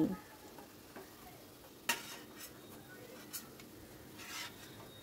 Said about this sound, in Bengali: ভালো করে ফ্রাই করে নিচ্ছি